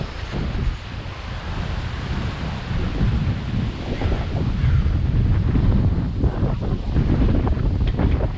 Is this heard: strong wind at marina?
yes